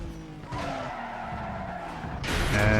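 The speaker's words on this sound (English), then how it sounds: "I slide straight into the wall" A car skids and slides into a wall in Need for Speed: Most Wanted (2005, PS2), with a sustained engine drone, a broad scraping burst near the end and a rising tire squeal, all fairly loud and without talk.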